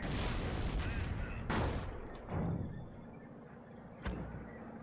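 Gunfire in a WWII strategy video game, with an MG team and a Panther tank in the fight. Rapid shots and booming blasts come at the start, then sharper cracks echo out at around 1.5 and 4 seconds, at a middling distance.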